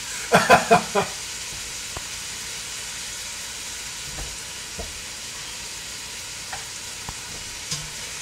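Beef and onions browning in a pan with salt and pepper for Epirus-style Greek beef with olives, a steady low sizzle after a few quick scrapes and knocks at the start, with occasional faint clicks.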